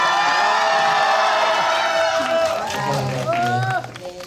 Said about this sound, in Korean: 그렇다면 지금 함성을 지를 기회를 드리도록 하겠습니다